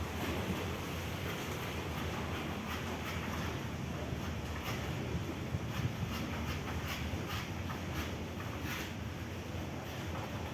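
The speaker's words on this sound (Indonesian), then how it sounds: "ombaknya langsung, ombak dari kapal itu tadi baru datang" Waves from a passing ship's wake wash in as a steady, fairly faint broadband surge of water, continuous and without talk.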